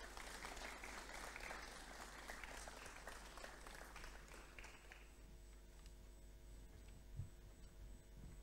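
Sustained round of applause from an audience at a school sports awards ceremony, steady dense clapping that thins and fades partway through, with no talking.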